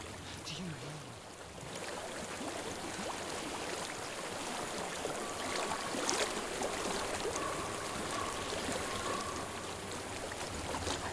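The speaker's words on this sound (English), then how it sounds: "I've reached the water." Flowing river water in Hellblade: Senua's Sacrifice, a steady rushing wash that fills the whole stretch at an even level, with faint distant tones over it.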